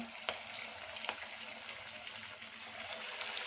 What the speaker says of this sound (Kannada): ಎಣ್ಣೆಯಲ್ಲಿ ಎಲ್ಲ ಹಾಕ್ಕೊತೀನಿ